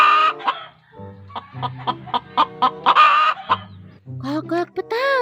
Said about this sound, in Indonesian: Ini ayam betina.